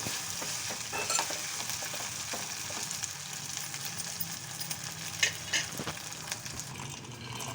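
Mint leaves and other curry ingredients frying in a pan until browned, with a steady sizzle and occasional scraping strokes of a spoon, close and continuous with no talk.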